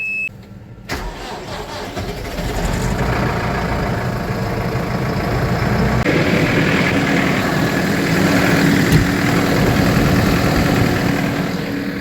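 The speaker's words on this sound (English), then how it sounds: "we're just getting the tractors fired up to mix feed" A diesel tractor engine cranks over and catches at a dairy farm, then settles into a loud, steady idle with a deep rumble that continues throughout.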